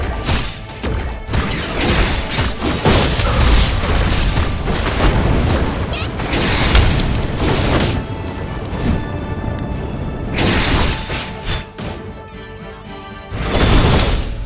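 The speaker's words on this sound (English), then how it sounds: "Your team has destroyed the turret!" A turret is destroyed in the video game Jump Assemble amid loud, dense battle effects: booming impacts, crashes and crackling bursts overlapping continuously, with an announcer voice over the game sound.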